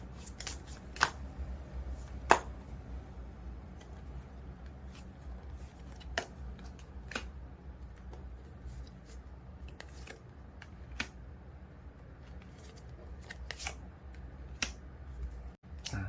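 Tarot cards shuffled and drawn at a reading table, with soft, continuous papery rustling broken by a few sharp card snaps and slaps, close and fairly quiet, no talking.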